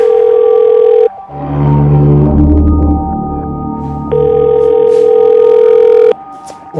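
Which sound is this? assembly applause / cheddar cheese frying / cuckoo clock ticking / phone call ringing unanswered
phone call ringing unanswered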